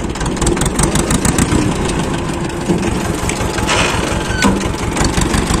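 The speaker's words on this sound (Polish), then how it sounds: "Ciągnik chodzi" A tractor engine runs steadily at idle, loud and close, with a rapid chugging rhythm and some rattling over the top.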